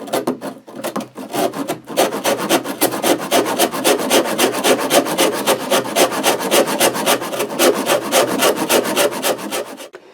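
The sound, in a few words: Shinto saw rasp hogging material off a wooden guitar body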